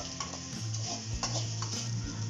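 Neatly sliced onion and two green chillies fry in a pan for chicken chukka varuval, a steady sizzle broken by light clicks and scrapes of the stirring utensil, with no talking.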